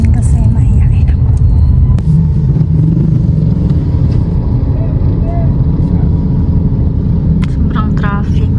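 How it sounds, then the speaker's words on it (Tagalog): Heavy road traffic in Davao, a dense low rumble of engines and vehicles with occasional higher noises, with a voice speaking over it. "Sobrang traffic."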